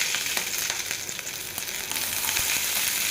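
Steady, bright sizzling of curry leaves and dried chillies frying in hot oil for Madurai water chutney, with occasional crackles and pops, close and continuous.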